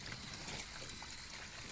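Contents of a bag with grill grease poured into a sink under a running tap, a steady close trickling and splashing of water throughout.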